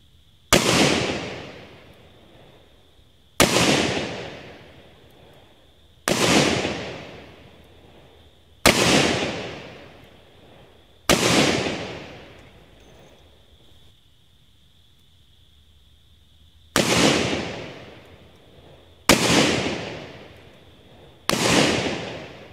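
Eight .357 Magnum shots fired double action from a Ruger SP101 revolver at an outdoor range, each a sharp, loud crack with a ringing decay, spaced a few seconds apart with a longer pause midway.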